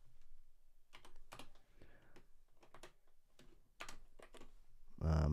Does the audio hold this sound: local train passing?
no